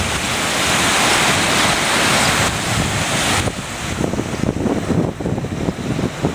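Ocean waves wash up on a beach in a steady roar with wind buffeting the microphone, loud and close, and the surge breaks up toward the end.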